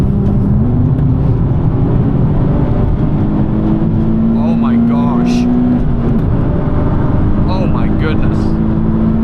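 A tuned Nissan 370Z with about 350 horsepower pulls hard in fourth gear, its engine drone holding steady and then climbing in pitch under excited talk from inside the cabin.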